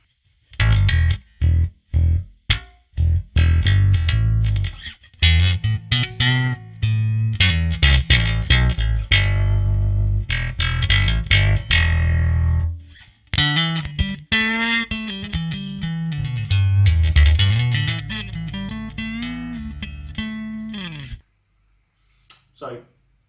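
A Harley Benton PB-20 bass guitar runs into the Amplitube bass amp simulator, playing loud, punchy plucked notes and melodic runs with a driven, slightly distorted tone and short pauses between phrases. No one talks over the playing.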